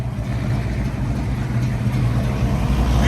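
A 1970 Buick GS with a 350 V8, mild cam and 4-speed manual idles steadily up close, a deep rumbling burble holding an even loud level throughout with no voices.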